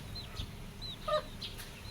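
Small bantam chickens, including a month-old chick, give soft, faint clucks and high peeps at close range over a quiet farmyard background.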